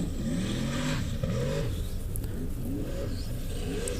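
Off-road race car engine with turbo revving hard at a formula off-road event, a loud continuous roar with rising and falling pitch sweeps as the throttle is worked, close and dominant with no talk.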